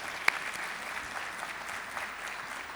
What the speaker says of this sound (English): Please give another round of applause for an outstanding presentation.